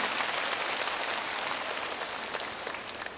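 Applause from an audience filling a church lecture hall, a dense and steady wash of many hands clapping that holds for a few seconds and fades only slightly, with no talk over it.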